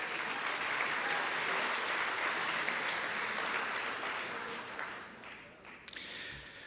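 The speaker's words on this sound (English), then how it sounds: "we can clap for Valdisa from a distance" A college athletics year-in-review audience applauds an absent athlete, a broad, continuous wash of many clapping hands at a fairly soft, distant level that thins slightly toward the end.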